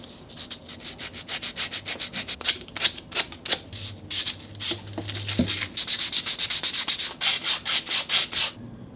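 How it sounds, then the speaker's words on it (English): Sanding a wooden screwdriver by hand produces close, rhythmic rasping strokes, rapid back-and-forth scrubs that speed up toward the end, with a brief low hum in the middle and no speech. "Now I'll sand the screwdriver."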